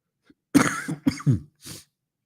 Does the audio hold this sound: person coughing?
yes